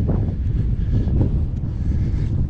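Gusty wind buffets a microphone beside a lake while spinning for rainbow trout, a steady loud rumbling roar with no talk.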